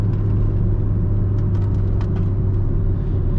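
Kia Rio engine pulling at about 3000 rpm on a mountain road, a steady loud interior drone and rumble with road noise that holds constant without a break.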